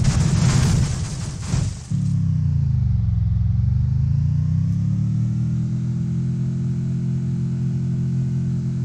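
A glitched ghost car in the Free Fire video game sits behind a burst of loud noise, then its engine settles into a steady, droning hum that dips and rises in pitch.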